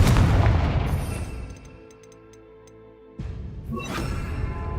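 Confringo fire spell explosions in Hogwarts Legacy, a loud booming blast that decays into a ringing tail with tinkling debris, then a second heavy burst.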